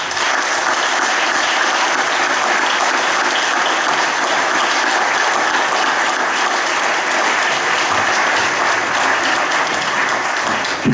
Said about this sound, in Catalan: el meu aplaudiment és per tots vostès